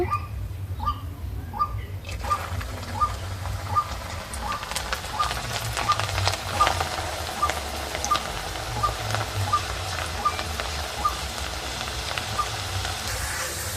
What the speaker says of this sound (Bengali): ভালো মতন ডালগুলো ভাজা হয়ে গেছে, এবার ছেঁকে নিচ্ছি।